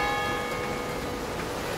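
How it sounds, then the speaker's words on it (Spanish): Church bells in Saint-Geniez-d'Olt, Aveyron, France, ring with sustained, overlapping tones over a steady wash of outdoor noise near the old bridge. "Las campanas de la iglesia."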